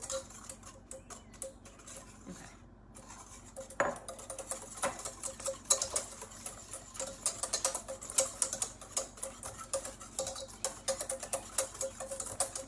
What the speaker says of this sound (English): So first you're gonna whisk in your milk.